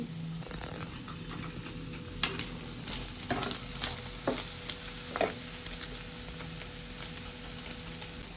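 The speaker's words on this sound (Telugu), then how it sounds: "మన పన్నీర్ అయితే ఫ్రై అయిపోయింది" Fresh paneer pieces sizzle steadily in a pan, with a constant crackling hiss and a few scraping stirs of a spatula, and no one speaking.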